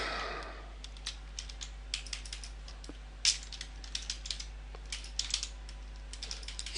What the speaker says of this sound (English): input, touch typing